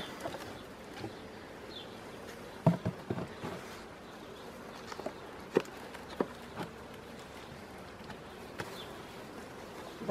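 Honey bees at an opened hive recovering from sacbrood, a faint low buzz in the background with occasional knocks and clicks of hive handling, quiet and outdoors.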